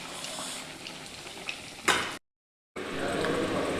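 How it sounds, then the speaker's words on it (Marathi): Sabudana vada deep frying in hot oil gives a steady, close, crackling sizzle that swells briefly, then cuts out to a short silence before the bubbling resumes. "तर गोल्डन कलर रंग होईपर्यंत तळून घ्यायचं आहे"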